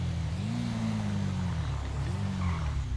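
A motorcycle skids and crashes in GTA V, a continuous loud engine drone with shifting pitch and tire-scrub noise that persists throughout.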